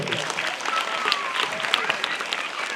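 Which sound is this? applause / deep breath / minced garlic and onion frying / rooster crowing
applause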